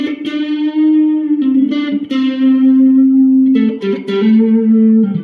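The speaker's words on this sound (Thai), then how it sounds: "ทีนี้เราจะลองเสียงแตกตัวนี้นะฮะ" A Squier electric guitar through a VOX Joe Satriani Satchurator distortion pedal plays sustained, gritty distorted notes and slides, a thick overdriven tone ringing with a slight chorus shimmer.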